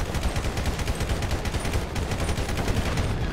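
Dense, rapid gunfire from GTA 5 fills the whole stretch, with overlapping shots and automatic bursts crackling loudly and steadily with no pause.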